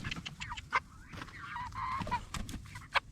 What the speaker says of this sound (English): These are our meat chickens that we've been raising.